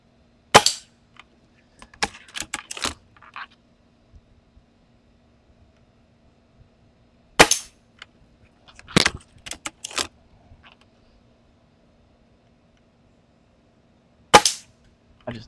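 A break barrel air rifle firing pellets at a metal target, sharp close shots each followed by quick metallic pings and rattles, spaced out with quiet gaps between.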